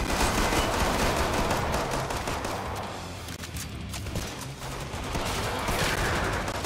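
Dense, rapid gunfire from Killing Floor 2 gameplay, a continuous loud fusillade of shots layered with game noise and no pause throughout.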